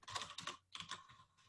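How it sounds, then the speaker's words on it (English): Furious typing on a computer keyboard during a community call, a dense rapid clatter of keystrokes in two bursts separated by a short pause. "I'm typing furiously"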